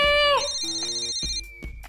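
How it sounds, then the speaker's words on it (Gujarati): A mobile phone ringtone sounding close and clear, a bright melodic electronic tone with shifting pitches that fades into a softer sustained note near the end. "આ ફોન અહીંયા વાગે છે."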